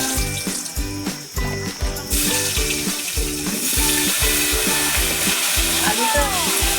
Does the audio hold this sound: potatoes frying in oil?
yes